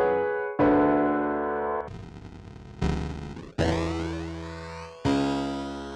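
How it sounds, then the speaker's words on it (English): A distorted, buzzy hybrid piano plays a series of sustained notes and chords, each struck hard and ringing out, loud and gritty. "In the case of distortion effects, we can control the level or intensity of distortion."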